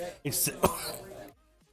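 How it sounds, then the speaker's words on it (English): A single harsh cough bursts out, followed by a few rough throat-clearing sounds, close and fairly loud, then silence. "And a coughing fit."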